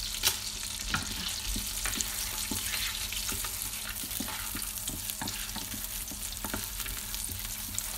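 Whole spices (cinnamon, cardamom, bay leaf, cloves) sizzling in hot oil in an Instant Pot, a steady close crackling fry with scattered pops and clicks, heard alone.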